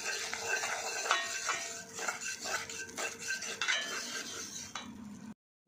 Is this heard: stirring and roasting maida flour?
yes